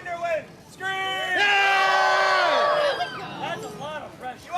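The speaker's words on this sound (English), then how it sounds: "You want to see Alexander win? Scream!" A festival audience at Faerie Fest 2019 screams and whoops for a contestant at a live show. Cheering swells loudly for a few seconds, then trails off into scattered shouts and a host's voice.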